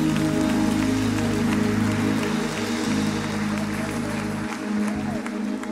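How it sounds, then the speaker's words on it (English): A church congregation claps steadily together at a Sunday service, a dense, even patter of applause continuing throughout, with a low tone and murmur underneath. "Give the Lord a hand clap of praise."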